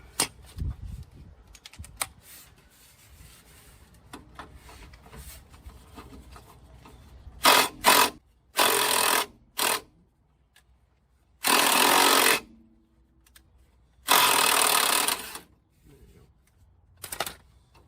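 A bolt is cycled back and forth to clean the threads on a Jeep XJ front receiver hitch, heard as faint ticking and then several loud, harsh rasping bursts separated by short silences, close up.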